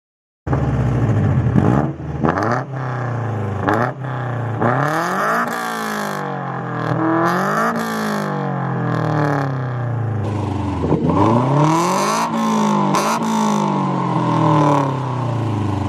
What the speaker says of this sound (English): it also has a super loud exhaust, as you guys will hear very soon